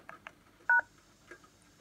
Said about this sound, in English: So, do the unlink, quick command, DTMF.